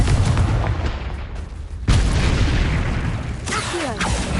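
In Hogwarts Legacy a Confringo blasting spell goes off as a loud, booming explosion. A second heavy blast follows partway through, and then crackling and rumbling debris trail off.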